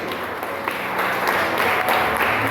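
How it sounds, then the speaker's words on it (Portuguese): A church congregation applauds together, a dense, steady wash of clapping that fills the room and holds at an even level from start to finish. "Você pode aplaudir a Deus por isso?"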